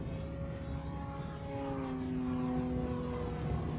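An ExtremeFlight 67-inch Laser RC plane flies a knife edge, its propeller and engine droning steadily at a distance with the pitch gliding slowly downward as it passes.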